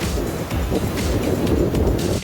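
Ocean waves wash around a sailboat under heavy weather from a deep low, a steady loud rush of water and wind noise filling the whole stretch without a break.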